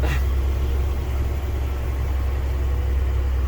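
A Unimog U500 expedition truck cruises slowly in sixth gear, giving a steady, low, heavy engine drone heard from inside the cab. No voices are heard.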